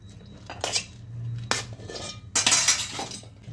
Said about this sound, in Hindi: अब इसमें हम चावल डाल देते हैं ऊपर से।